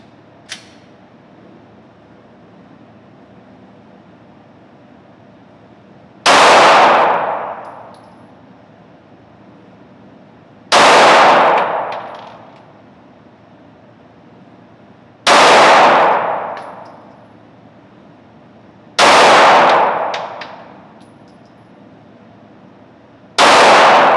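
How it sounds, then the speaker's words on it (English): Five sharp, loud handgun shots at an indoor shooting range, fired one at a time about every four seconds from a compressed ready position at targets 21 feet downrange, each blast followed by a short ringing decay. "I'm just going to warm up just a little bit by just doing some shooting from the compressed ready"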